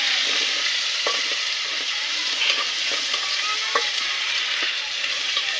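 Ginger garlic paste sizzles steadily in a pan while a spoon stirs it, scraping and clinking against the metal every second or so, close and with no talking.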